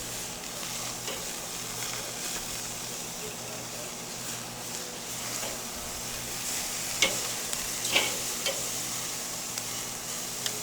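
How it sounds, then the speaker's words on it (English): Thick pieces of fajita meat searing on a grill, a steady broad sizzle and hiss that holds throughout, with a few light ticks and taps later on, fairly quiet and close. "It does not take long to cook fajita meat, even though these pieces here are pretty thick."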